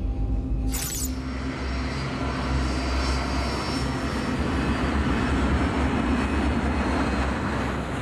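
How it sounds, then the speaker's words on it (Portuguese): An airliner takes off from Heathrow with a loud, sustained roar of jet engines, a dense rumbling wash that stays close and steady throughout, no voices over it. "Quando a aeronave deixa o Heathrow, Key, nos controles"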